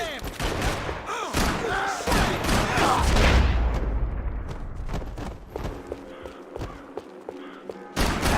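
Rapid gunfire crackles through a chaotic shootout in the Max Payne 3 video game, with dense overlapping shots and heavy thuds, while voices shout over the din.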